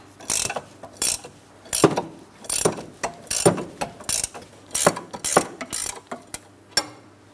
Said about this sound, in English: you do want to use a ratcheting wrench if necessary